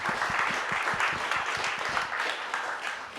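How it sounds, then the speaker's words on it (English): A seated audience at a film-program event gives a steady round of applause, moderately quiet and even, with a dense patter of many hands clapping at once and no talk over it. "Let's give them a big round of applause."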